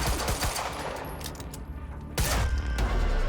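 Gunfire in the Quantum Break video game, a burst of sharp shots over a dense game backdrop, ending on a final headshot, with a second louder volley of rapid shots near the end.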